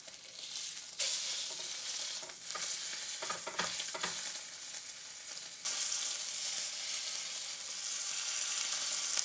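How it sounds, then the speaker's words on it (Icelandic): Olive oil and rendered fat spooned from a frying pan over Christmas pork, giving a steady loud sizzle with scraping and stirring bursts and no voices. "ég er að taka upp ólífuolíuna og fituna af pönnunni, setja það ofan á aftur"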